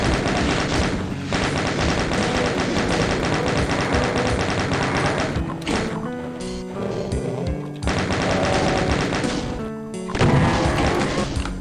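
Rapid gunfire from smaller guns in the video game Doom, dense continuous machine-gun-like rattling broken by a few short pauses and punctuated by impacts, loud and close with no talk.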